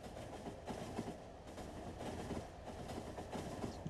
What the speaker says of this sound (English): I wonder how the oil trains are getting on.